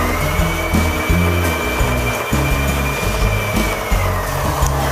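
A Janome 3016 sewing machine winds its bobbin with a loud, steady motor whir close up, its pitch stepping up and down in short stages as the pedal is pressed; no talking.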